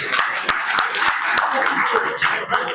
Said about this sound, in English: I'll request all of you to be clapping sound to match number of people in the room.